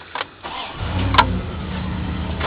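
A 1995 Ram van's engine cranks and catches after a brief pause, then settles into a low, steady idle rumble heard up close, with a short click just before it.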